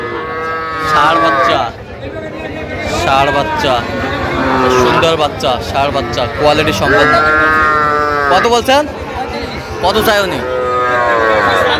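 Young bull calves at a cattle market moo repeatedly, some calls long and loud and others shorter, under steady crowd chatter and a vendor calling out nearby.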